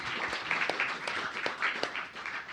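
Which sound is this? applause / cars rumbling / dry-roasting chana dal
applause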